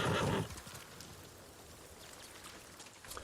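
A horse in the Ghost of Tsushima video game gives a short whinny at the start, then soft rain patters on the ground and faint hoofbeats continue beneath it.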